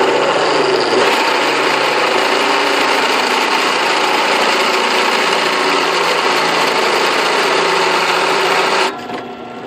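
A power drill boring a 5/8 inch hole during rim brake and axle seal work on a Ferguson TO30 tractor, a steady loud high whine running nearly ten seconds before it stops abruptly.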